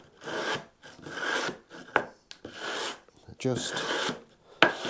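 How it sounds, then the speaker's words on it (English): A radiusing sanding block with 120 grit paper rubs along a Telecaster guitar fretboard in short, uneven rasping strokes on wood, close and quiet, with someone talking between and over the strokes. "I've dropped back onto my other radiusing block simply because it's got some 120 grit on"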